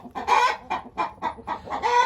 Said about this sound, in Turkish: ırk standartına yakın horozumuz